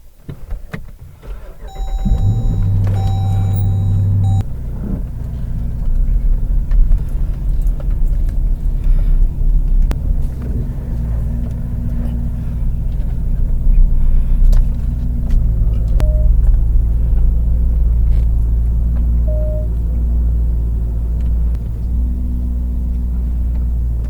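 A Subaru BRZ with upgraded engine mounts starting off and driving, heard from the cabin as a steady low engine drone and road rumble that builds gradually, with a few brief tonal chimes and clicks early on.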